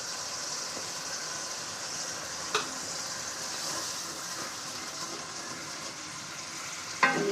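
Cumin and onion paste frying in a pan for a Bengali fish curry, a steady close sizzle throughout with a couple of brief stirring clatters and no talk.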